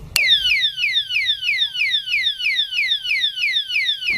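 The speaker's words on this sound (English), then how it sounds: "the alarm disc lock will immediately sound 110 beeps alarm for 10 seconds" A Top Secure TS201M alarm disc lock sounds its tamper alarm: a loud, rapid, steady train of shrill descending electronic chirps repeating about four times a second, close by and uninterrupted.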